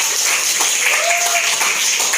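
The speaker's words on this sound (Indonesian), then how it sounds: "Tepuk tangan dong." Classroom audience clapping steadily and loudly throughout, a dense continuous patter with a brief tonal voice-like sweep in the middle.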